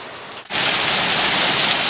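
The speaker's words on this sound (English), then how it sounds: "it started raining like hell" Heavy rain bursts in abruptly after a brief quiet moment, then holds as a loud, steady hiss of downpour close by.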